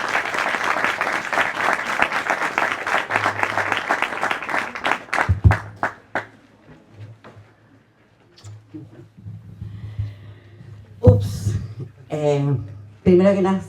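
Audience applause at a commemoration ceremony marking 50 years since 11 September, a dense burst of clapping for about five seconds that thins out into scattered claps, followed by a lone speaker addressing the crowd.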